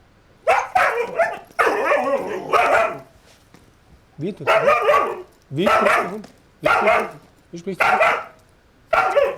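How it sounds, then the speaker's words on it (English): A mountain rescue dog in training barks repeatedly in short bursts, close and loud, with brief pauses between the barks and some whimpering yips. "I let the dog bark, so he associates it with his search efforts."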